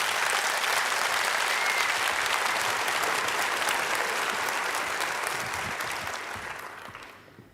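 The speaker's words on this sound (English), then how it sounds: "A round of applause for them and their team." A crowd at an opening ceremony gives a steady, full round of applause that holds level for several seconds, then tapers off toward the end.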